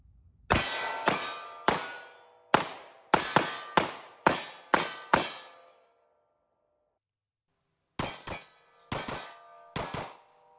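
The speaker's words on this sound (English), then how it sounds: "let's go ahead and do some shooting" Smith & Wesson M&P Shield X pistol fired at an outdoor range, sharp loud shots in an uneven string of about nine, a pause, then four more, each cracking and decaying quickly, no voices.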